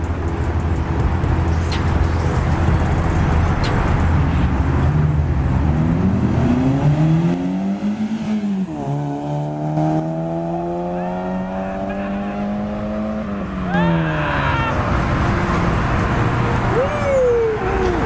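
A Kia Forte and a stock Mazda Miata NC race side by side, engines revving hard with rising and falling gear-change sweeps and a brief lift between shifts, loud and close, with voices in the background.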